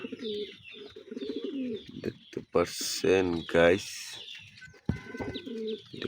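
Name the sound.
pigeon chicks cooing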